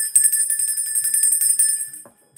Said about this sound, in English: let me just ring my bell